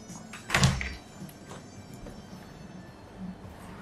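An office door styled after Doctor Who opens with one loud, close thud and rattle, then fades into quiet room tone with a few faint knocks.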